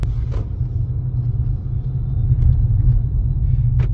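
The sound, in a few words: Nissan Altima with CVT transmission driving on road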